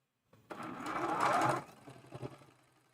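Sewing machine running a seam on a friendship star quilt block: a single close, quiet burst of fast mechanical whirring lasting about a second, tapering off into a few soft clicks.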